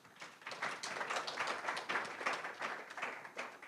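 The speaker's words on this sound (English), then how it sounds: "let's welcome everybody for a round of applause first before we begin" A conference audience at a digital mining summit in Cancun gives a brief round of applause, soft and somewhat distant, with a dense patter of clapping hands throughout.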